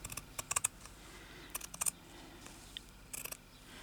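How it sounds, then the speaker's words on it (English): Scissors snipping through open weave fabric for a journal cover, several quick crisp cuts in small clusters with pauses between, close by in a quiet room. "So I'm going to cut along this edge here."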